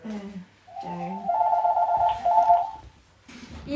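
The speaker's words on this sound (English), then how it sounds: "there's the phone." A telephone rings with a steady electronic trill that repeats in a couple of bursts. People talk before and after it, and the ringing sits close and fairly loud in the room.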